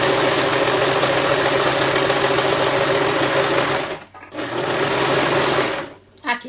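An overlock serger sews the edge of a pillowcase with a steady, close, fast whirring stitch. It stops briefly about two-thirds through, then runs again before a second short stop at the end.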